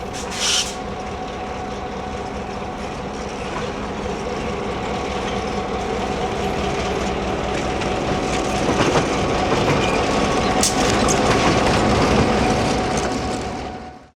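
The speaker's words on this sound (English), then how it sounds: "The train has come to a stop to let off passengers for the first photo run-by." Southern Pacific steam locomotive 2472 rolls with its train through Niles Canyon, a sustained loud rumble of rail cars with clickety-clack wheel beats and a brief high squeal, easing off at the end.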